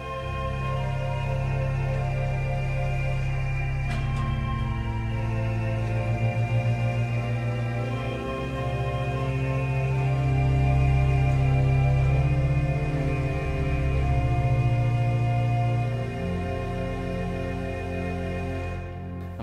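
Hinsz organ in the Bovenkerk, Kampen, sounding its Vox Humana reed with foundation stops drawn: a full, sustained chord held steadily for about twenty seconds with a slight tremulant waver, loud and continuous with no talking.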